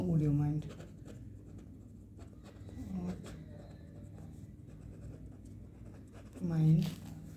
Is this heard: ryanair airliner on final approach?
no